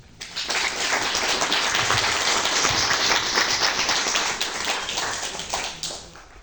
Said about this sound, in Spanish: recibimos con un fuerte aplauso a Goyo Torres